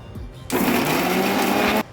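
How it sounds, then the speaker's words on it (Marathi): A loud electric mixer whirs steadily for over a second as it grinds, starting abruptly and cutting off just as suddenly, with quiet moments before and after. "आता हा आपला मसाला आपण मिक्सरमधून वाटून घेऊ"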